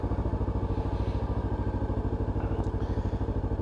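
A Honda CB500 motorcycle engine runs close by in a steady, even idle with a rapid, regular pulsing throb and a light mechanical clatter, with no talking.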